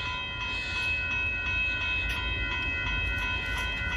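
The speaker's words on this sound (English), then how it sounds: "Apparently, it decided to let the car train pass by first." A Union Pacific intermodal freight train rumbles past close by at Dittmar Road in Austin, Texas, a steady loud roar of wheels and cars with a sustained tonal whine running throughout.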